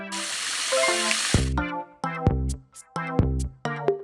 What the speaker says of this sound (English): Rinse the dishes.